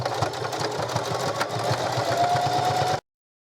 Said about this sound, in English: So I'm gonna do a little back stitch.